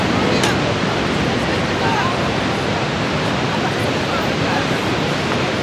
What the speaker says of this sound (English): This is the perfect wide view of Niagara Falls.